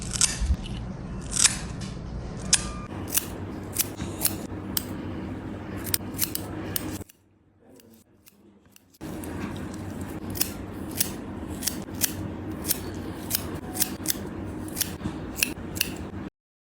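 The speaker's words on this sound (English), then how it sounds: "a lovely compilation of eyebrow trimming and shaping the eyebrows" Close, crisp snips of small scissors trimming eyebrows repeat at an irregular pace, pausing briefly midway before the snipping continues.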